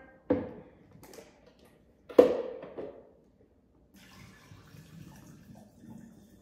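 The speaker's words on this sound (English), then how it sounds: "We've got to be able to dump that water." Water from a cooking pot of hard-boiled eggs being dumped out, likely into a kitchen sink: two short splashing pours close by, then softer trickling and draining noise.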